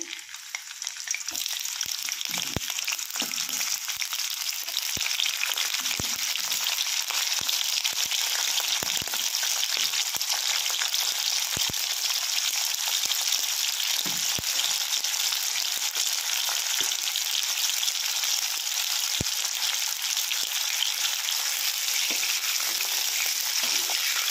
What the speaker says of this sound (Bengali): এই যে কেটে রাখা ফুলকপিগুলো আমি আগে একটুখানি তেলে একটুখানি গরম মানে ভেজে নেব।